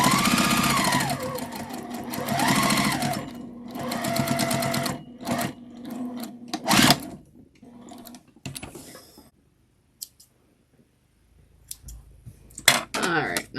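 A sewing machine stitches a quilt-as-you-go scrap table runner in several loud, close bursts of rapid whirring, separated by pauses of fabric handling and light clicks.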